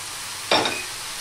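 Boiled jackfruit is stirred into a hot frying pan, giving a brief burst of sizzling and scraping that quickly settles back into a low background hiss.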